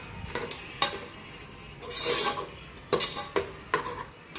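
A metal spoon scrapes and knocks against a pan while tomatoes and rock salt are stirred for a quail curry, giving irregular clinks and rasps over a low sizzle, close up with no voices.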